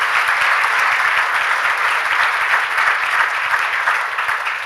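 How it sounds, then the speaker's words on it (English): A conference audience applauds a health care reform panel with steady, dense clapping throughout, heard from within the room with no voices over it. "Would you give our panelists a round of applause?"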